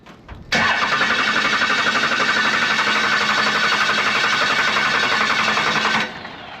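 A first-generation Cummins diesel, worn out and not run in years, cranks briefly, then catches and runs loud and steady for several seconds before dropping to a lower idle, with no talk.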